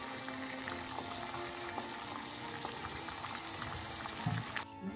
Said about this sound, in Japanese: お湯で3分以上煮沸消毒しましょう